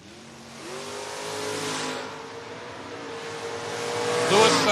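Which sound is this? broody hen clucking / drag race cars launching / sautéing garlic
drag race cars launching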